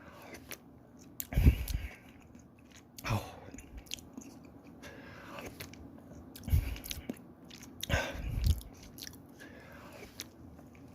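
Conger eel kimchi stew is being eaten, with soft slurps and chewing bites in separate bursts. A quiet background hum runs between them, and no talk can be heard.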